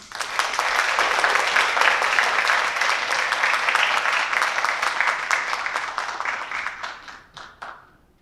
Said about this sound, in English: I'd just like to give them another round of applause